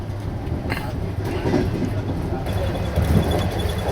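A passenger train on the Moscow–St Petersburg line rumbles steadily along the track, a continuous low rolling drone with faint rhythmic wheel clatter heard from inside the carriage.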